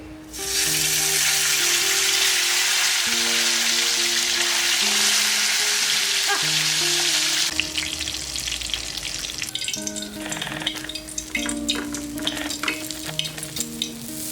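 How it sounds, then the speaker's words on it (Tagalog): Tilapia fish steak frying in a pan, a loud dense sizzle close by that settles into a quieter crackle with scraping stirs, under a steady low hum. "nagsalang na rin po ako ng kawali at para maiprito ko na rin itong isda"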